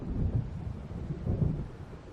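Deep rolling thunder from an approaching storm in Alan Wake, two low rumbling swells over a steady rain-like wash, distant and without voices.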